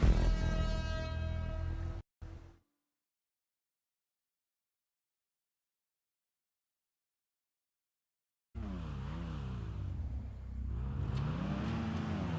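Car racing in the video game Motor Town: Behind the Wheel: a loud engine hum cuts out into several seconds of silence, then returns revving up and down in wavering pitch sweeps as the car accelerates and shifts.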